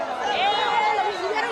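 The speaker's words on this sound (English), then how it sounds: "The crowd is angry and the mood is ugly." An angry crowd of residents gathered after a vigilante attack, many raised voices shouting and chattering at once, loud and close with no single speaker standing out.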